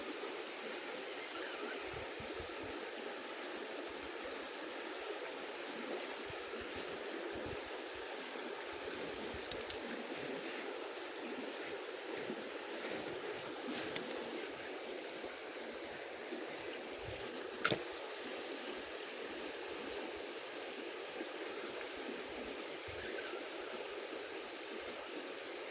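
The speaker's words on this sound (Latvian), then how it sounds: "Šeit upe arī ļoti straujāka." A fast-flowing river rushes in a steady, broadband wash that holds constant throughout, with faint occasional knocks and no voices.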